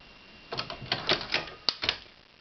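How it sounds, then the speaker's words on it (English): Lyman shotgun slugs pressed one after another into a magazine, a quick run of sharp metallic clicks and snaps with brief pauses between them, close and clear. "And I'm actually loading 16 slugs because they are my last 16 Lyman slugs that I have."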